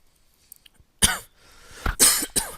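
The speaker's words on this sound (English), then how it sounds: "Still have a very little cough, guys, so I might cough just a little bit to the mic." Two or three sharp, close coughs in quick succession after a few faint clicks, with brief quiet between them.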